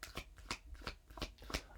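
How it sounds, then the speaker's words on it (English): Tarot cards being shuffled by hand, a rapid series of crisp riffling bursts repeating about every third of a second, close and fairly quiet. "I forgot I shouldn't be shuffling right now"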